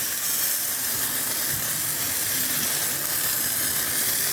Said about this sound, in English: So the steam itself gonna cook these ones over there